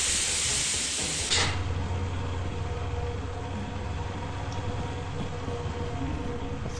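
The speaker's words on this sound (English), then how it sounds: "fix the fucking steam leak" Steam leaks from a pipe in a video game: a loud, bright hiss opens the clip and cuts off sharply after about a second, leaving a lower, steadier hiss and hum.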